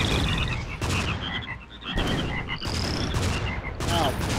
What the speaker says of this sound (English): Stop it, frogs.